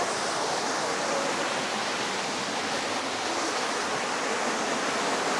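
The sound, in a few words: waterfall on mountain hike in Hunan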